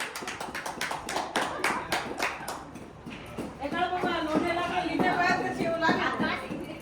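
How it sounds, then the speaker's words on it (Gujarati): An audience claps for about three seconds to welcome a guest at a community program, a dense burst of close hand claps that gives way to people speaking. "તાળીઓથી સ્વાગત કર્યું છે ભાઈ"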